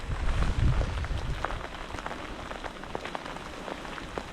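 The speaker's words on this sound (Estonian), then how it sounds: "Ootame, et vihm järele jääb." Steady rain patters on surfaces outdoors during a windy fishing trip in Lapland, a dense hiss with scattered distinct drop ticks and a brief low rumble of wind near the start.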